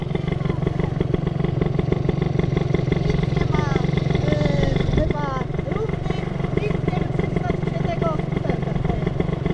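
A scooter's small engine hums steadily and close as it rides along and turns around, with a brief change in pitch midway while people talk over the motor throughout.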